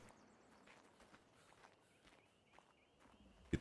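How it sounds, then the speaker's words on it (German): Faint, soft thuds of a trampling creature in the game ARK, a few irregular heavy steps at a distance beneath quiet ambient noise, ending in one louder thump. "Ich habe gerade ein Trampeln gehört."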